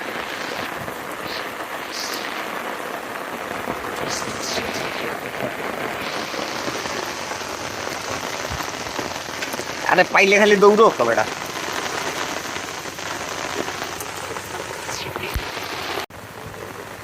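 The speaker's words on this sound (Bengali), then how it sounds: "তুমুল বৃষ্টি নামছে দেখা যায় না কিছুই" Heavy monsoon rain pours down steadily in a rainy-season village by floodwater where shrimp traps are being emptied, a dense broadband hiss that lasts throughout, with a louder burst near the middle and someone shouting over it.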